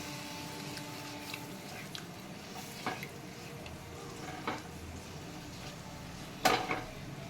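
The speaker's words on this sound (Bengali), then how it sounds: "ছানাটা আমি একটু নাড়াচাড়া করে নিচ্ছি" Chhana milk curd with a splash of liquid milk being stirred in a pan for kalakand, quiet soft squishing and low sizzle punctuated by a few spoon taps against the pan, louder clank near the end.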